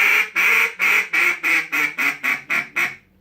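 A voice imitates a duck call, mouthing the word "run against" with a throaty hum to make a quacking sound. It comes as about ten loud, evenly spaced quacks in a steady rhythm, close up and alone.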